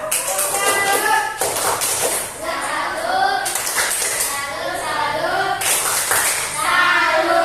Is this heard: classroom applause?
yes